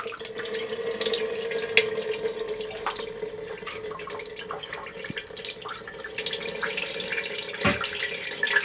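Whey from feta cheese curds drains in a continuous watery trickle and splash, fairly close and steady, with occasional drips and a slight rise in flow near the end.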